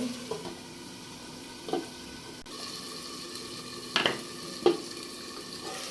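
Chicken and potatoes fry in a pan for a Bengali broiler chicken bhuna, with a low steady sizzle broken by a few brief scraping stirs, close and fairly quiet, no talk.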